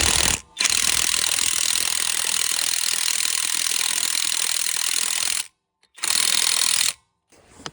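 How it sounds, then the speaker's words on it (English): Impact wrench fitted with a 22mm socket hammering at a lug nut on a Nissan Rogue, a loud continuous rattling burst lasting several seconds, then a short second burst after a pause. "Let's see how it does breaking off a lug nut on a Nissan Rogue."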